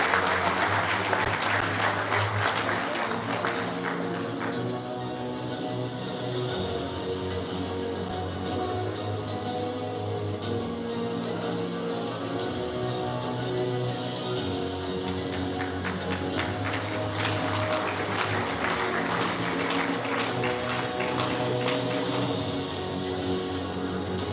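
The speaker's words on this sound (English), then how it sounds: "Again, let's give him a round of applause, Sergeant Jovic Rechuk." An audience applauds at a Guam Police Department promotion ceremony: dense, sustained clapping from many hands continues for over twenty seconds at fairly even loudness, swelling slightly again near the end.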